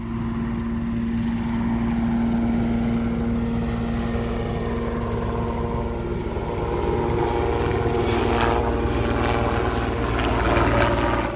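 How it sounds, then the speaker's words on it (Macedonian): Firefighting helicopters over Lake Ohrid, drawing water to drop on wildfires, give a continuous heavy rotor and engine drone that holds steady and swells slightly near the end, with no voices. "езерската полиција овозможува хеликоптерите да црпат вода која испуштаат на критичните места"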